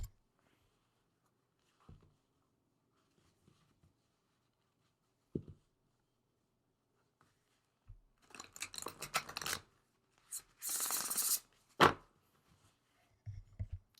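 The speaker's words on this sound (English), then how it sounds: "let me give this deck a quick shuffle." An oracle card deck is shuffled by hand, a few soft isolated taps and then bursts of riffling, flicking card noise, close and crisp in an otherwise quiet room, with no talking.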